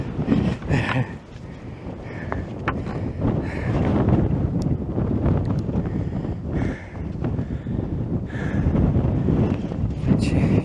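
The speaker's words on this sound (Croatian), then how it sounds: "Jer ovdje ima dosta vjetra. Sad ga baš testiramo na vjetru." Strong wind buffets an external microphone on Kozjak mountain at the Sveti Juraj peak, a constant loud rumbling roar with gusty swells that runs the whole time.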